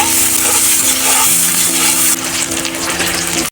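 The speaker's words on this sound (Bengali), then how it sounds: "এরপর আলুগুলো দিয়ে 2 মিনিট ভেজে নেব।" Thin-cut potato strips fry loudly in hot oil in a pan, sizzling steadily up close while a utensil stirs and scrapes through them.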